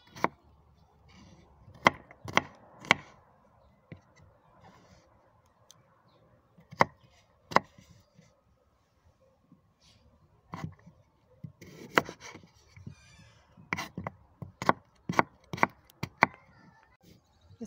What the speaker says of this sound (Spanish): Empezamos picando los rabanitos.